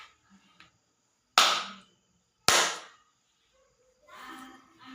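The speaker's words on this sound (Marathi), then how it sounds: "आपण या साऊंड सेन्सर जवळ टाळी वाजवतो तेव्हा हा बल्ब आहे तो चालू होतो" Two sharp hand claps, about a second apart, land close by near an Arduino sound sensor that switches a bulb in a small smart-home model, against otherwise quiet room tone with faint murmurs.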